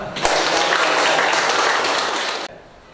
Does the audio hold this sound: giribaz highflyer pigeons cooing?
no